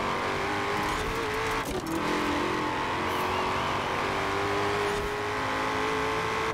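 A supercharged V8 car in Forza Horizon 4 accelerates hard, its engine note rising steadily through the revs with brief dips at gear changes, loud and close throughout.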